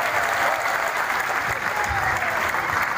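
Applause from a crowd gathered to watch a PSIS Semarang versus Persebaya Surabaya football match at Semarang city hall, a dense, steady burst of clapping under light talk.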